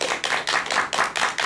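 Audience applause in a Korean lecture hall, a steady, dense wash of hand clapping rising and falling in several short waves, fairly close and alone with no talk.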